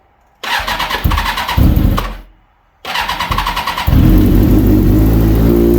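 A 2001 Kawasaki Ninja ZX6R motorcycle engine, choke pulled, cranks briefly and stops. A second try catches, and the engine rumbles into a loud, deep, steady idle close by.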